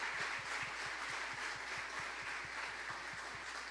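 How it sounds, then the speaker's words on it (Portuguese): A church congregation applauds its volunteers at an anniversary service, steady moderate clapping with a rhythmic unison beat running through the whole stretch. "Recebam o nosso aplauso de gratidão."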